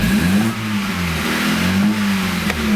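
A cold BMW N20 engine revs gently, its tone rising and falling in a couple of soft, restrained blips, close and steady with no voices.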